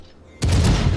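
Cruiser guns in a naval battle game, played as French cruisers, fire in a sudden loud salvo that breaks a quiet moment and keeps blasting and rumbling close up.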